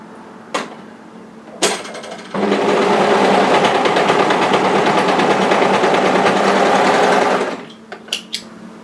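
An overlocker serges two garment pieces together, right sides facing, for a Dana Shrug cocoon cardigan; after a few sharp taps it runs in one loud, steady, close whirring stretch of about five seconds, then stops.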